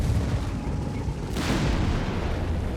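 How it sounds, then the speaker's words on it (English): Strafing-run explosions in the Company of Heroes 3 video game: a continuous rumbling backdrop of battle noise, then a sudden sharp burst about halfway through that trails off into more low rumbling. "More strafing runs there."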